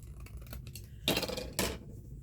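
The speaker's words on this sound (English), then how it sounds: "Just going to trim it off here." Scissors trimming paper for a handmade purple journal: two loud, distinct snips, the first near the middle and the second shortly after, against a quiet room background.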